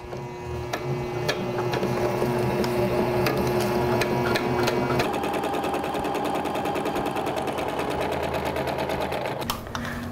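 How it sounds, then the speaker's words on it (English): A single-needle sewing machine stitches hair wefts in a fast, steady mechanical rattle that runs continuously and loud, close by, with a few clicks at the start and a brief shift in tone near the end. "Load the hair into your machine. I'm using a single needle, so I'll be doing a 4-pass stitch."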